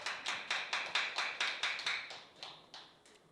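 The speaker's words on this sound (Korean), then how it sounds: "박수 치신 분은 복 받으실 거예요" Audience clapping at a company seminar in a series of sharp, close claps in a steady rhythm, about a dozen in all, fading toward the end with no voices over it.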